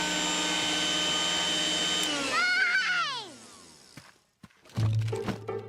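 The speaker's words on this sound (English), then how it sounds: "Where do you keep the vacuum cleaner?" A cartoon vacuum cleaner hums loudly and steadily, then whines down in falling, wavering tones and cuts out, followed by a couple of thumps and clattering noises.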